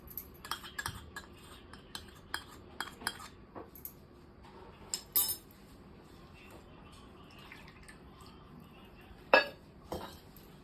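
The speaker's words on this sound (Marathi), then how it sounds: "आता हे सगळं मिक्स करून घेणार आहे" A spoon clinks and taps against a bowl while soybean and potato are mixed with turmeric, green chili, salt and yogurt, giving scattered sharp clicks that are quiet and close with pauses between.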